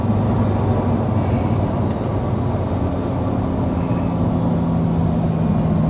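A Lamborghini Huracan EVO LP640-4 launches in sport mode, its engine a loud, steady, close roar that holds without a break for the full stretch.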